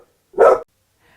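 A single short, loud bark from a puppy, close by, with silence around it.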